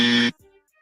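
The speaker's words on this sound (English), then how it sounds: "hold on, buzzer" A loud buzzer blares once for about a third of a second, close and harsh, then cuts off into quiet faint sound.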